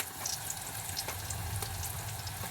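Red onion frying in oil after the base turns golden, a faint, even hiss with light crackle, quiet and continuous with no talking.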